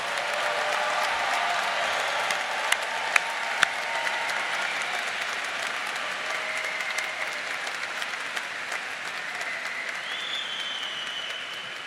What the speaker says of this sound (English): how about another big round of applause for all of our graduates?